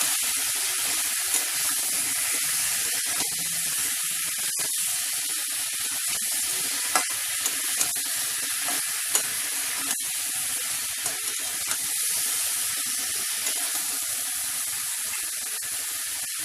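Pumpkin curry spiced with cumin powder sizzling steadily in a pan, a continuous hissy fry broken by soft, irregular stirring clicks, close and fairly loud.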